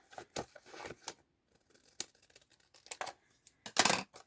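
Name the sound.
cutting craft material with scissors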